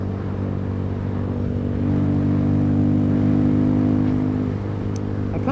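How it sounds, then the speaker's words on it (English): Honda Grom motorcycle with only 278 miles on it, engine revving hard under heavy throttle, a steady close droning whine that climbs in pitch and swells in loudness midway, then eases slightly near the end, with no talk. "I'm giving it lots of gas"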